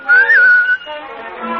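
A person whistles a short sustained tune, a clear bright tone that rises slightly and holds before fading into a softer background hum; close and fairly loud.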